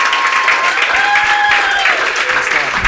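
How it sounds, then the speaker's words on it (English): A room full of people at a fireside chat event gives a big round of applause, dense and steady clapping filling the whole moment with a few whoops over it. "can we actually just give a massive round of applause for these guys"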